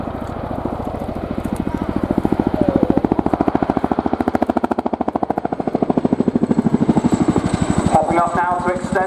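Chinook twin-rotor military helicopter at an airshow, loud and close, its heavy rhythmic blade chop pounding steadily throughout while a voice talks over it.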